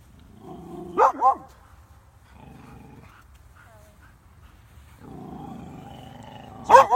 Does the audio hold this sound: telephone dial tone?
no